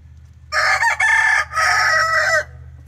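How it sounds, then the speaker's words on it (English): A rooster lets out one long, deep crow lasting nearly two seconds, loud and close, with a brief break partway through and a low steady hum underneath. "you have a much deeper crow"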